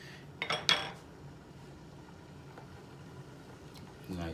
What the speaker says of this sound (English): I'm just going to add these peppers in.